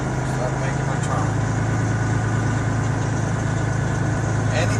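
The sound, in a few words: vehicle engine with a little throttle added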